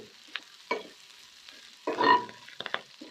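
Sisig mixed with mayonnaise being stirred in a pan over very low heat, with soft, sporadic scraping and gentle sizzling bursts close by and quiet gaps between strokes.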